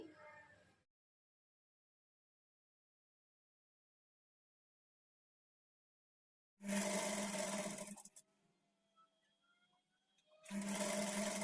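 A sewing machine stitches a front-slit designer kurti in short, loud whirring runs: one brief burst at the start, a long stretch of silence, then two more runs separated by a quiet pause.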